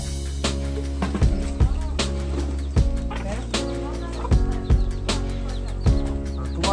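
Chickens cluck around a home yard with a rooftop pigeon loft nearby, giving soft scattered calls among sharp knocks and thumps, with a voice speaking faintly in the background.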